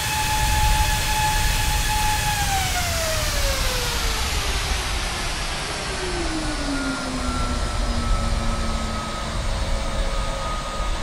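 Steady roar of Airbus A380 jet engines spooling in Microsoft Flight Simulator 2020, a high whine that slowly drops in pitch over a broad rumble, continuous and loud throughout.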